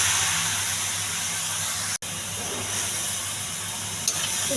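Marinated chicken tossed into a pan of fried onions, green chillies and masala for a potato chicken curry sizzles with a steady, loud hiss of frying that carries on unbroken, with no talking.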